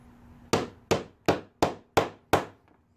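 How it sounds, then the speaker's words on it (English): Six sharp ball peen hammer blows on metal in a steady rhythm, each a bright ringing strike that decays quickly, close and loud, while shaping a steam engine part. "Ball peen hammer"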